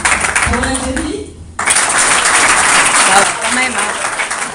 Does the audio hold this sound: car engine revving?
no